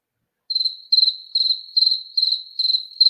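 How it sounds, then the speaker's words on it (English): Crickets chirping in a steady rhythm, short repeated trills spaced evenly, clear and close against total silence. "Crickets"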